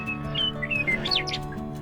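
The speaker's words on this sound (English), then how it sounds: "Lots of wildlife, lots of birds." Wild birds chirp and tweet in a New Mexico wildlife management area near Maxwell, several quick high whistling calls overlapping close by over a low steady background hum.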